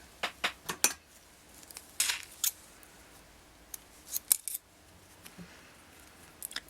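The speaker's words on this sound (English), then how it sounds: "so I'll cut that off" Scissors snip through beading thread during an even peyote stitch project with Delica beads, a handful of sharp, close metallic clicks in quick clusters separated by quiet pauses.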